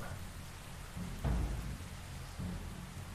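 In a video game, steady rain hisses softly while a low rumble of thunder swells briefly and a fainter roll follows, all fairly quiet and distant.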